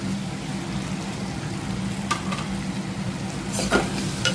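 Spices such as turmeric, cumin powder, chilli powder, salt and coriander powder being stirred into a mashed mixture in a pan, a low steady sizzle with a few sharp scrapes of the spoon against the pan, no talking.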